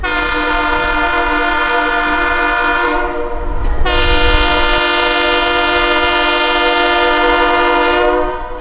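A train rolls along the tracks near Cordele, Georgia, loud and close, with a long sustained horn blast. The horn breaks off briefly midway, then resumes and holds under a steady rumble of the train.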